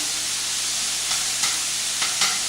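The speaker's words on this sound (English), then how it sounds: "I don't mind turning bacon around over and over and over and over again" Bacon fries in a pan with a steady, bright hiss of sizzling fat, joined by a few faint scraping stirs, close and even throughout.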